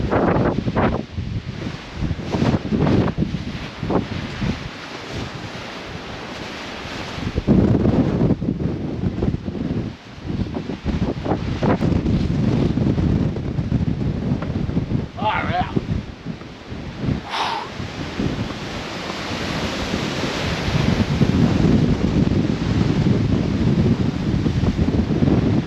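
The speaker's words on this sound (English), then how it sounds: "It's a bit windy." Wind buffets the microphone in loud, rumbling gusts that rise and fall throughout, with brief voices and rustling mixed in, during winter camping in the south of France.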